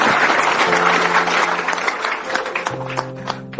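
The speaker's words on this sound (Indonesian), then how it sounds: "Tepuk tangan sekali lagi yuk." An audience claps steadily throughout at a Cak Nun religious gathering, a dense wash of applause with sustained musical tones ringing underneath.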